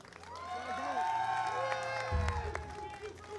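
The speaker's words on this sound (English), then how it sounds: "let's just give another round of applause for all the finalists" Crowd applause and cheering for Monster Hunter Wilds USA Championship 2025 finalists, a steady mid-level roar of clapping and voices under a presenter's speech and background music, swelling briefly near the middle.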